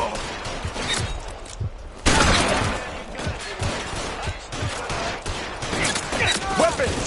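Gunfire in L.A. Noire gameplay: a loud shot burst near 2 seconds followed by scattered cracks and thuds through a tense shootout, mixed with character voices and background game audio.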